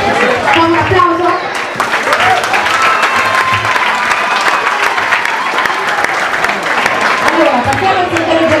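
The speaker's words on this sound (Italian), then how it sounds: "Un applauso." Loud, close applause from a crowd at a sports club gathering, a continuous wall of clapping with voices talking and calling out over it throughout.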